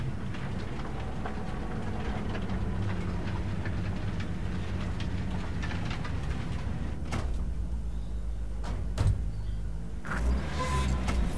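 Train rumble in the Cyberpunk 2077 game, a heavy continuous low-end drone with rattling and a few sharp clanks and hisses near the end, steady and close throughout.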